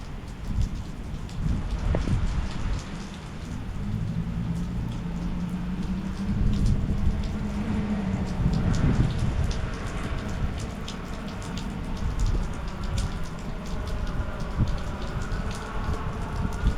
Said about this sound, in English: It is definitely raining out here.